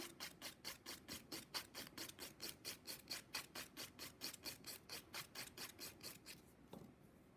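A sculpted gel nail being filed at the free edge, about two dozen quick, evenly spaced rasping strokes, close and soft, ending in a brief pause and a final light scrape.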